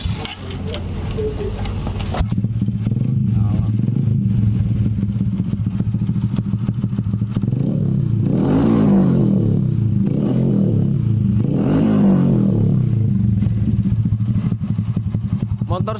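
A Honda Karisma 125 motorcycle with a Revo CDI fitted idles close by with a rapid ticking beat, then revs up and down about three times before settling back to idle.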